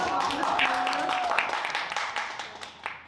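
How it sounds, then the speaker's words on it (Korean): A seminar audience claps, a spread-out patter of hands at moderate loudness that thins and fades toward the end, with people talking over it. "박수"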